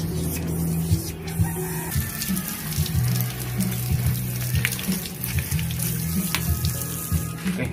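Water running from a tap during washing-up at an outdoor barbecue lunch, a steady close splashing stream with clattering of items in the basin and no talk.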